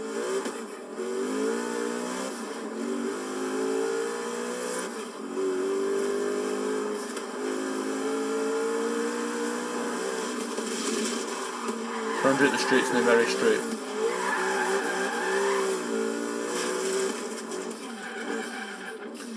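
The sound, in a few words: Noble M600 engine and skidding tires in Forza Horizon 3 video game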